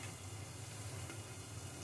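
Green chili peppers sizzle steadily in a hot pan while cooking for a yogurt and gram-flour curry, a close, even frying hiss with no talk.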